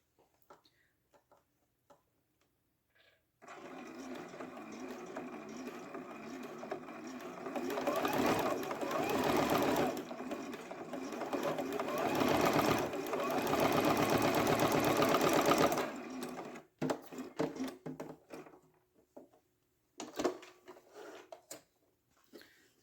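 A sewing machine stitches two quilting fabrics together, its rapid mechanical whirr running steadily for about twelve seconds between quiet pauses with a few soft clicks and handling noises.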